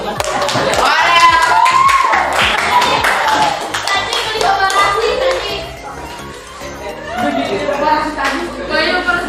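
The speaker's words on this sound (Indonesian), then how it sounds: "tepuk tangan dulu" A class of schoolchildren claps hands in a lively burst of applause in a classroom, with children's voices chattering and calling out over the clapping.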